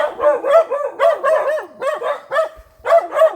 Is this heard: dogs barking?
yes